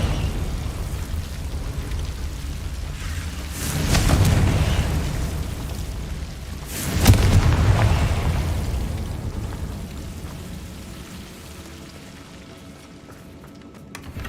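A Confringo spell exploding in Hogwarts Legacy: two rumbling blasts a few seconds apart, the second sharper and louder, each fading into a long noisy tail over steady background ambience.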